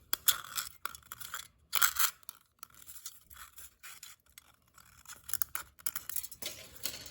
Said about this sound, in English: we're going to cut along that line again